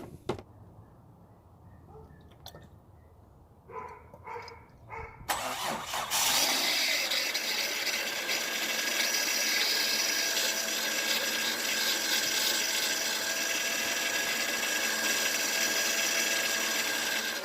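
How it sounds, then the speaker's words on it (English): A few quiet clicks and rattles, then a Kia Sorento engine starts and settles into a steady loud mechanical drone with a high power steering pump whine running on and on. "Your power steering pump is going to be a little bit noisy when you first turn it on"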